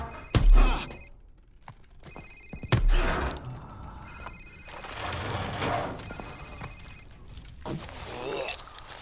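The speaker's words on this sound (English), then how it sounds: "Sir, it's his cell phone." A cell phone rings in Call of Duty: Modern Warfare, a repeated electronic trill sounding in bursts amid game ambience and occasional thuds, with no speech over it.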